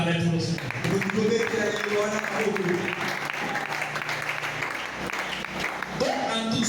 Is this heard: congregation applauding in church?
yes